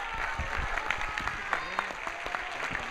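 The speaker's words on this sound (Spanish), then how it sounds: "Un fuerte aplauso" An audience applauds with steady, dense clapping at a popular political gathering. A voice carries over the clapping.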